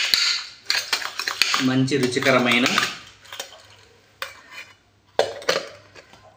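A spoon stirs and clinks against a metal cooking vessel in short bursts, with scraping and clattering strokes, while a person talks briefly over it.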